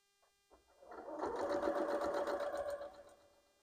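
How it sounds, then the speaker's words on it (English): A sewing machine stitches fabric pieces for a log cabin quilt block, starting with a few soft clicks and then running steadily at a close, even hum for about two seconds before slowing to a stop. "And I'm going to now sew it."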